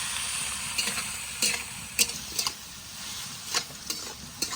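Onions frying in a pan for a village-style mutton dish, a continuous sizzle broken by several sharp scrapes and knocks of a stirring spoon.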